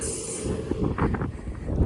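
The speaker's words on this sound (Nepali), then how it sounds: "यतिले पुनरै ट्रेन आइछ।" A train passes at a quiet spot in the Czech Republic, a steady rumble of wagons with rhythmic wheel clatter and faint squeal, moderately loud and without talk.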